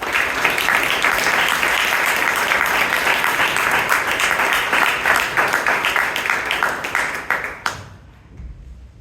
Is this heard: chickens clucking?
no